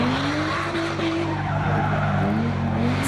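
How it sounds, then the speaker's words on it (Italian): Car engines at a motor trade fair at the Treviso racecourse rev loudly with a rising and falling whine and tyre-squeal-like tones, under a dense, continuous roar of crowd and outdoor noise. "riaccendono i motori al taglio del nastro per la 16ª edizione della mostra scambio e fiera motori"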